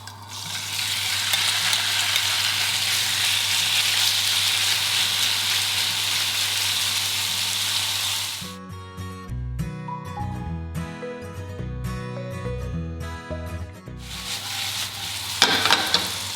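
Cod, salmon, prawn and smoked fish pieces sizzle loudly in a hot pan, a steady hiss for about eight seconds, then clattering stirring and scraping before the frying hiss returns.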